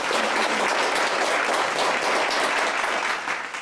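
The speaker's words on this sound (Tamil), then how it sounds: "அடுத்த அணியினுடைய தலைவர் அருண் அவர்களை பலத்த கைத்தட்டலோடு வரவேற்கிறோம்." Sustained applause from an audience at a Tamil Pongal debate welcoming a team leader, dense and steady clapping that stays loud throughout before tapering slightly at the end.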